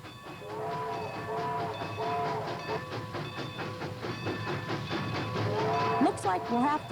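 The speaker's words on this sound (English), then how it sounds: "Looks like we'll have to stop for the train," A passing train on a studio backlot tour rumbles and clacks steadily with repeated horn blasts, loud and near, with brief voices near the end.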